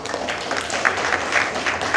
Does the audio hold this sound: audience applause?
yes